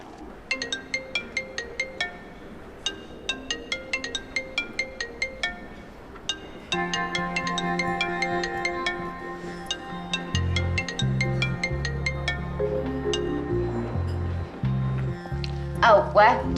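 A phone rings out with an electronic melody while a call is being placed, its bright tonal notes repeating in short pulses at first and then settling into a steadier, fuller tune for about sixteen seconds.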